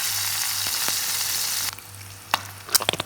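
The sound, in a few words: bacon frying in oil in a pan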